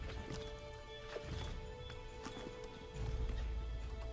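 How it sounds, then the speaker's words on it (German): Rhythmic hoof clip-clops from a horse trotting in Assassin's Creed 3, with a steady low rumble beneath and a slightly louder stretch near the end. "Steig wieder aufs Pferd, Connor."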